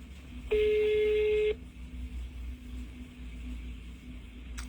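A single steady ringback tone sounds for about a second over a low background hum, then the line goes quiet.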